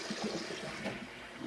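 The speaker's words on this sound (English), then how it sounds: "let our pasta settle to the bottom, and drain it off" Water from a cold tap pours and drains off blanched pasta in a kitchen, a steady, close, washing rush of liquid with no talking over it.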